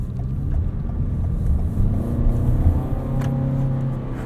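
A 2023 Toyota RAV4 Hybrid Woodland Edition in sport mode, its engine droning and revving in a low, steady rumble heard from inside the cabin, swelling slightly midway, with no talking.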